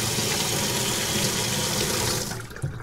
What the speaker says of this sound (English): you could tell it's draining a lot better right now